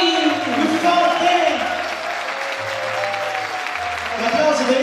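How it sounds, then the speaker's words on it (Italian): Audience applause for a comedian on stage at a live comedy show in the Festhalle Fellbach, a steady wash of clapping held throughout under a loud room hum, with talk over it. "Un applauso, più forte."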